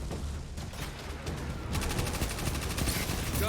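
Submachine gun fire in a video game, rapid automatic bursts that grow louder and denser halfway through, rattling continuously and close with no talk.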